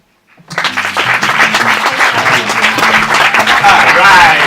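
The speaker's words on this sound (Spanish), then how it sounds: "Ese aplauso para Filipos" Audience applause and cheering for a poetry slam performer in Mallorca starts abruptly after a brief silence and continues as a loud, full burst, with a voice mixed in.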